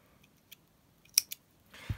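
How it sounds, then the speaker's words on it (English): Scissors snip yarn during crocheting, a couple of quick sharp close cuts amid soft handling noises, followed by a brief low thump. "I'm just going to pull a bit of yarn through and use my scissors."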